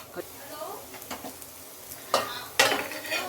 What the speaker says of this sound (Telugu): ఒకవైపు బాగా ఏగిపోయింది కట్లెట్టు ఇంకా రెండో వైపు కొంచెం వేగాలి